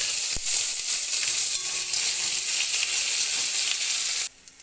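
Sliced onion sizzles loudly in hot oil already tempered with black cumin, a bay leaf and dried chilies, a dense, close, continuous crackling hiss that starts with a sharp splash as the onion goes in and cuts off abruptly near the end.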